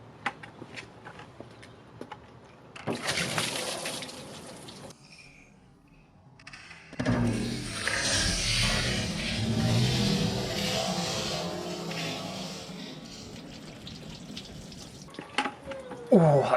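Water sprayed onto a ceramic-coated car panel, bursts of hissing spray starting and stopping, then a longer steady rush of water over the paint, close and fairly loud.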